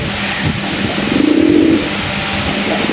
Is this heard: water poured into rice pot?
no